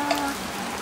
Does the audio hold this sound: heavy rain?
yes